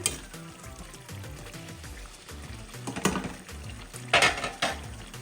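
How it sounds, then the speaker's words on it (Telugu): Mutton curry stirred in a pan after chili powder is added, giving a close, busy scraping and sizzling with metal spoon clinks and a few louder clattering strokes near the end. "కారం వేసుకొని కలుపుకోవాలి"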